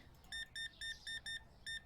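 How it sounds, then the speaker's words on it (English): Six short, bright electronic beeps in an even rhythm, each a checkout scanner reading an item in the Supermarket Simulator video game, clear over a faint background. "Beep, beep, beep."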